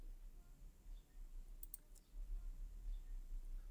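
A few quick, faint computer mouse clicks while working through SketchUp menus, a tight cluster of sharp ticks over low background hum.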